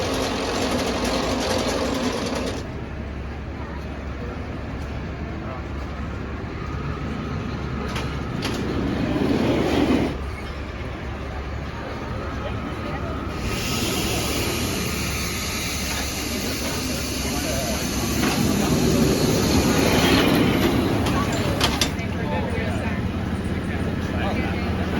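Steel Hawg, a 2008 El Loco steel roller coaster at Indiana Beach, rattles and roars along its track with loud rolling rumble and wind noise that swell and fade through the ride, with occasional voices.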